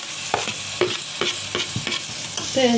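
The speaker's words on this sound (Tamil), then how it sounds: "இது ஒரு 2 நிமிஷம் பொரிய விட்டுக்கலாம்" Ground coconut and cumin fry in masala for an okra tamarind curry, with a low steady sizzle under brisk, rhythmic scraping strokes of a spoon against the pan, close and fairly loud, with no talking.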